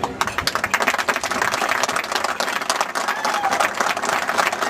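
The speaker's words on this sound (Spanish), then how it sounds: "El aplauso nuevamente para el embajador Antonio Herrera" Crowd applause at a gaucho parade, dense continuous clapping filling the whole stretch at steady loudness, fairly close, with no speech over it.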